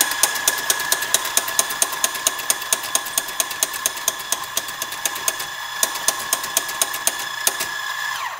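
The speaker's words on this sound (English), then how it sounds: "turn on your grinder" Coffee grinder grinding espresso beans, a steady loud mechanical whir with a fast regular clicking pulse throughout, winding down at the end.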